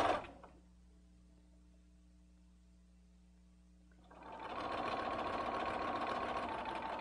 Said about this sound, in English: I'm just stitching a little bit at a time,